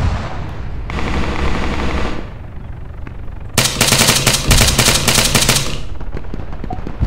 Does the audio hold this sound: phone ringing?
no